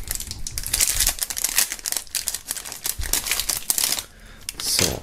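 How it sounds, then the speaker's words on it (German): Plastic shrink-wrap foil crinkles and crackles up close as items are pulled free of it while unboxing a music album box set, in busy, irregular bursts with brief pauses and no talk. "holen wir diese mal aus der Verpackung, aus der Folie raus"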